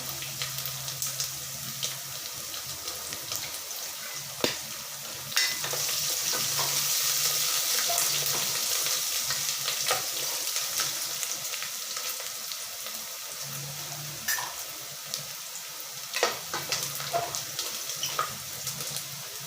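Fennel seeds, chopped ginger, garlic and chillies sizzle in hot oil in a pan for a mutton head curry gravy, giving a steady crackling hiss with occasional sharp clinks of a spoon.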